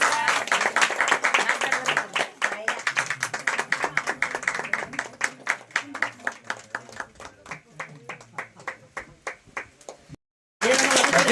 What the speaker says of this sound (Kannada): ಚಪ್ಪಾಳೆ ತಟ್ಟಿ ಹ್ಯಾಪಿ ರಿಟೈರ್ಮೆಂಟ್ ಎಂದು ಹೇಳಲಾಯಿತು